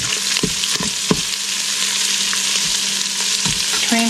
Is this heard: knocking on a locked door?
no